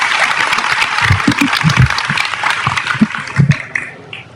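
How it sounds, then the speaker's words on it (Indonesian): Audience applause for a speaker at an Indonesian religious gathering: a crowd's scattered claps build into a sustained, fairly loud patter, with a few sharp close claps standing out before it thins and fades. "tepuk tangan untuk beliau."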